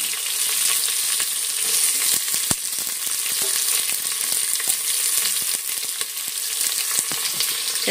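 Mustard seeds, curry leaves and onion sizzle and crackle in hot oil in a home kitchen pan, a bright steady frying hiss with scattered pops and occasional stirring clicks, close and without talk.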